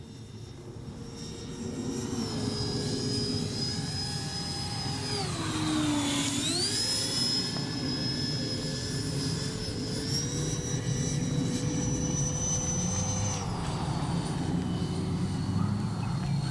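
A 3D-printed RC delta fighter jet flies overhead, its high-pitched ducted-fan whine sweeping down and back up in pitch as it passes at moderate distance, then holding a steady, fairly faint whine.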